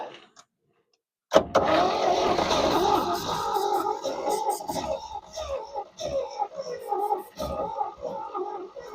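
A 1969 Chevy Custom C10 pickup, long buried in a field, cranks after a short silence and stumbles toward firing, its rough engine rumbling unevenly and surging close by for several seconds.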